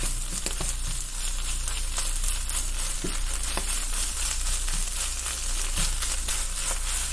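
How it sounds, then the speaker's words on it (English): Plant-based chorizo sizzles steadily in a frying pan for street tacos al pastor, with a constant close frying hiss and occasional scraping clicks of a spoon stirring through the pan, no talking. "So I'm just going to sprinkle some in, stir it up."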